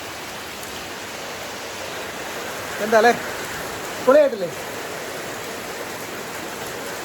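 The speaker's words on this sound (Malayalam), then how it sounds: "വീഡിയോ എടുക്കാനൊക്കെ തുടങ്ങി ഒരു മഴ നോക്കിയേ" Steady rain falls as a continuous, even hiss throughout, fairly close, while a person briefly speaks twice over it.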